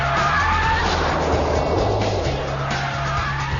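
Jaguar XJR, about 1.5 tons, driven hard around a test track lap, its engine note rising and falling steadily while tires squeal continuously through the corners from an onboard position.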